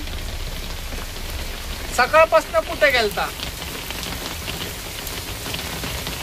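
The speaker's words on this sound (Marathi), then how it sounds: "कसंय पुण्याचा पाऊस" Heavy monsoon rain pours down in Pune as a steady, dense hiss that lasts throughout, with a short burst of talk near the middle.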